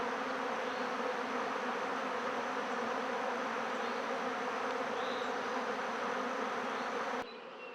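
Dense, steady hum of many honeybees swarming around five beehives while robbing each other, a continuous buzzing drone close by that cuts off abruptly near the end, with no voices.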